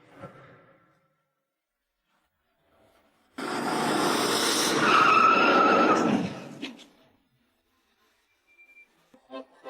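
A car skids with a harsh tire screech that swells loudly for about three seconds and then cuts off, used as a drama sound effect; faint scattered knocks follow afterward, with no crash impact clearly standing out.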